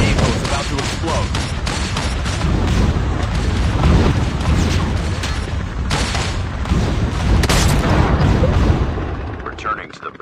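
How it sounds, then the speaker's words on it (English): A vehicle under fire in Call of Duty is wrapped in continuous heavy gunfire and booming blasts, dense and loud for most of the stretch before fading, with voices talking over it. "Our vehicle is about to explode."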